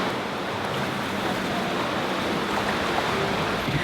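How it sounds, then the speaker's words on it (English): Sea waves wash and reverberate inside a coastal sea cave in Sardinia, a steady broadband rushing roar at moderate level with no voices. "the sound of all the waves reverberating around"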